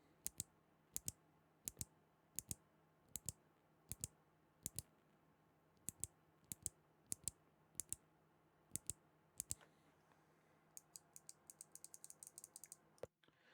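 Box switches on a custom mechanical keyboard click crisply one key at a time in a steady rhythm, close and quiet, then break into a quick burst of rapid typing near the end.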